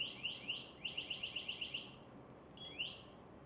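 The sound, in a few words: alarm sounding on MSA G1 SCBA control module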